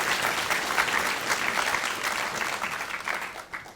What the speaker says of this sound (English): I think you saw that huge applause and respect for your speech